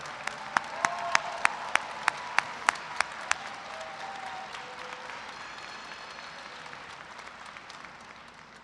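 An audience at a fall 2024 electrical and computer engineering commencement ceremony applauds master's graduates, opening with several sharp, distinct claps that blend into a soft, steady wash of clapping before slowly fading.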